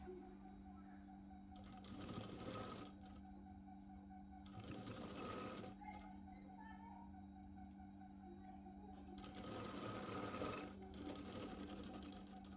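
Sewing machine stitching the shoulder seam of a Punjabi dress, running in several steady bursts with short pauses between them, close and fairly quiet against a constant low hum.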